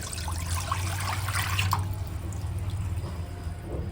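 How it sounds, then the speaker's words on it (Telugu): Leftover water from soaking dried apricots being poured into a pan on the stove, a continuous close splashing pour with a low steady hum beneath, no talking. "మనం నానబెట్టుకోగా మిగిలిన వాటర్ ఉన్నాయి కదండి, అవి ఇందులో పోసేసుకోవాలి."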